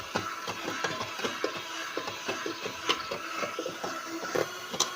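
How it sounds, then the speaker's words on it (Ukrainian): Eggs and sugar are whisked for a curd casserole batter, making quick rhythmic clicking strokes against a bowl that repeat evenly and close up without any voices. "Так, збиваємо яйця з сахаром."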